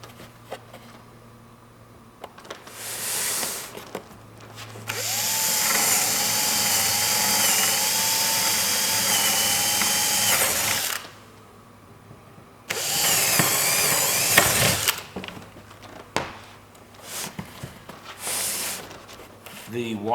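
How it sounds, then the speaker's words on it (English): Power drill boring 1/4 to 3/8 inch holes in a Lionel FasTrack modular railroad layout base for track wiring, two loud sustained whining bursts separated by pauses, with quieter handling noises around them. "we'll just drill a 1/4 to 3/8 inch hole in both of these places."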